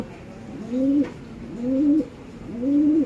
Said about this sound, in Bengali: এক জোড়া রেসার কবুতর